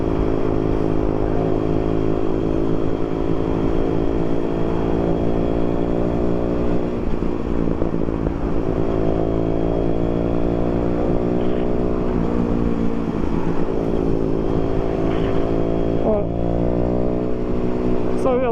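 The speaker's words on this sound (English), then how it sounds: "Natalia is riding a Honda 125." A Honda CBR 125cc motorcycle ridden on a group ride, its small engine holding a steady buzzing drone that rises and falls through gear changes for the whole stretch, close and loud.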